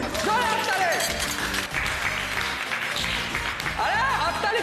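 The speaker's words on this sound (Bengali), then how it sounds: "হাততালি দিন, জোরে হাততালি।" A studio audience keeps up loud, continuous applause while music plays and voices carry over the top.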